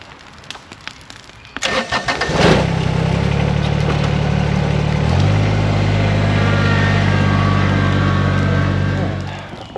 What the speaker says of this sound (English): Get the tractor out of here.